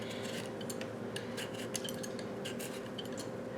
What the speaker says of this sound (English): I'm just peeling the kiwi.